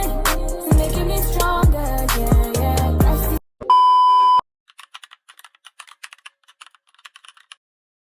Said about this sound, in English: You're going to type in YouTube thumbnail.